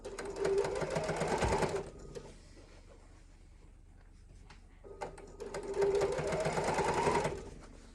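A sewing machine stitching a seam with a 3/8-inch allowance, two loud steady whirring runs of a couple of seconds each separated by a quiet pause, heard up close.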